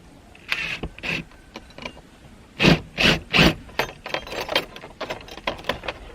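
Screws being driven to fix a solar flood light bracket to a house wall: a series of short ratcheting, grinding bursts, close by, with a cluster of louder driving bursts in the middle.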